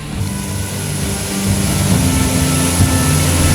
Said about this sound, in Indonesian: Kedua pesawat ini lepas landas dari Lanut Halim Perdana Kusuma, Jakarta